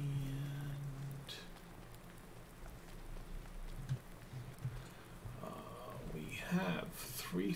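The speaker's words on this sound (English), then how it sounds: "And it's another awesome rainy day." Rain falls in the video game Farming Simulator 19 on a farm map, a soft steady patter under scattered game sounds and brief voice-like noises.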